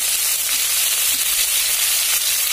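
Onion paste fries in a hot pan with a steady, dense sizzle and hiss that holds evenly throughout, close and fairly loud, with no voices.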